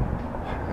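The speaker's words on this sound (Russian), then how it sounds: "наши маленькие дизелечки, такие, как они называются, там, басы, железнодорожный автобус" A diesel railbus runs along the rails in Kaliningrad, a steady low rumble of rolling wheels and engine drone filling the short moment without clear clacks or voices.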